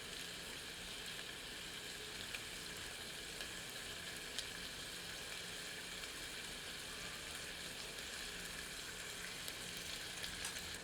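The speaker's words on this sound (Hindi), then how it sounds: "अब मध्यम आंच पर मुर्ग को थोड़ा भूनते हैं।" Chicken sautés in a little oil over a medium flame, producing a steady, dense sizzle with occasional faint stirring clicks throughout, close and even, with no voices.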